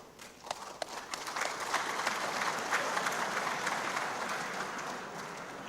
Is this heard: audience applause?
yes